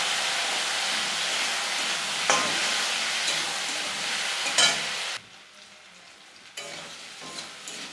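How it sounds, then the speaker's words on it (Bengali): Taro stems frying in mustard oil with salt and turmeric, a close, steady sizzle broken by scraping stirs, dropping to a softer hiss for a stretch before rising again. "একটু লাল লাল করে আমি ভাজা ভাজা করে নেব।"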